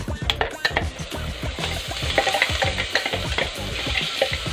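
Steady sizzling of chopped onions frying in hot oil for chicken soup, with stirring scrapes and clatter close by, continuous and fairly loud throughout.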